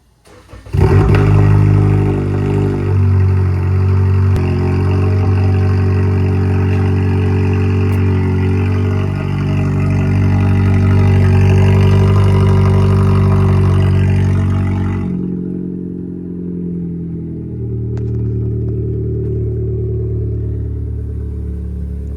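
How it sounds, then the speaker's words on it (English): A Toyota Camry engine with an exhaust dump cranks to life and revs hard with a loud, raspy exhaust roar, then drops to a steady rumbling idle near the end. "let's start up the car. Let's hear how the Camry sounds with a dump."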